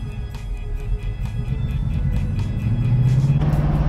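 A 1967 Shelby GT500 in Brittany Blue Metallic, built as a restomod with modern performance, drives along with a steady engine drone that rises in pitch toward the end, loud and continuous with no talking.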